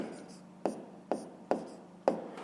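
A pen taps and scratches on paper in four sharp, evenly spaced strokes, each followed by a brief scrape, close and fairly quiet.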